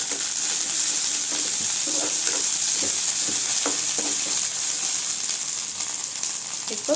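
Ginger garlic paste sizzles steadily in a hot pan for a Tamil mushroom pepper fry, with a constant frying hiss and intermittent scraping stirs throughout, no talking.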